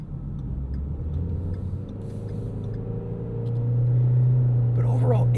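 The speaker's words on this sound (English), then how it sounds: "we'll do an acceleration and see if we have any traction off the line" A 2013 Ford Fusion SE with a 1.6L EcoBoost engine rumbles at idle, then climbs into a louder, steady growl as it accelerates from a standstill; a few faint clatters near the end.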